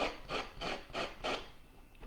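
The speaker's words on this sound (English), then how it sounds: "it's so much easier to let it hang off the edge and give it a sanding" Sandpaper rubs back and forth in five even rasping strokes over the overhanging decoupage paper edges of a wooden Christmas ornament box, close up with no talking.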